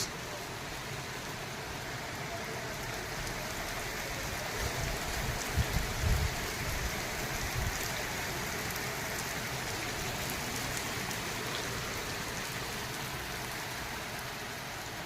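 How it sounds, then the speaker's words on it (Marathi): Evening rain falls steadily as a broad, even hiss that continues throughout, with a slightly louder patch of heavier drops or patter near the middle and a faint voice or two in the background. "खूप छान असा पाऊस पडतोय"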